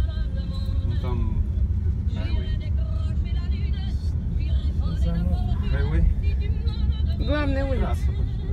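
Traffic rumbles along a main street highway in Miami, with cars passing close by as a continuous road roar, while people talk over it.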